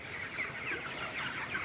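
Broiler chickens cluck softly on a raised slatted platform in a winter shed wrapped in polythene, a faint, steady murmur of several birds with a few brief higher calls.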